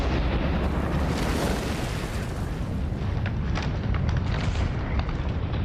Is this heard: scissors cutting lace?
no